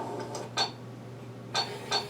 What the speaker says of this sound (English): it goes tick, tick, tick